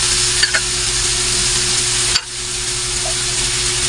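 Milkfish (bangus) frying steadily in hot oil in a pan, a dense continuous sizzle with a few brief clinks early and a short dip around the middle as the pan is handled.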